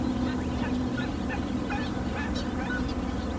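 A Saunders's gull mother calls to her chick from outside the nest, giving a steady run of harsh, honking cries over a dense, noisy background of other birds.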